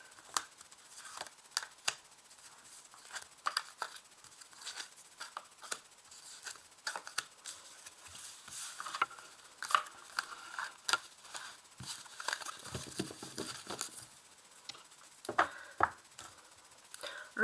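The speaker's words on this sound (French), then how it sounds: "Alors, on va placer maintenant les cartes." Tarot cards laid out one by one on a table, heard as soft close slaps and flicks in an irregular rhythm, quiet and with no talking.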